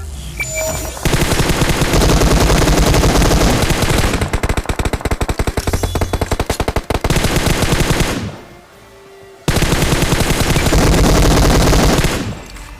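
Loud, rapid automatic gunfire rattles in a mobile battle royale game, with long sustained bursts, a brief lull, then another dense burst of shots.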